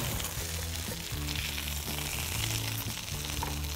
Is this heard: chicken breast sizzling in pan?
yes